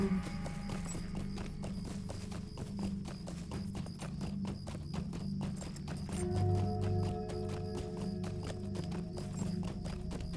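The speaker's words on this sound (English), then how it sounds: "Waiting, waiting while we ride a horse" Horse hooves clip-clopping at a steady riding pace in a Lord of the Rings video game, a rapid, even rhythm of close hoofbeats over a low droning background with faint musical tones.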